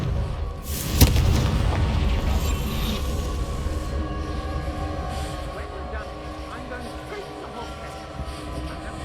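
A Confringo blasting spell fires in Hogwarts Legacy, giving a sharp, loud burst near the start followed by a rumbling, crackling decay beneath a steady ambient game soundscape.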